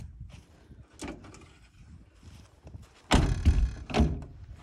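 A school bus door is swung open and pulled shut during a pre-trip inspection, giving a few mechanical thunks and one louder slam near the end, with faint background noise in between.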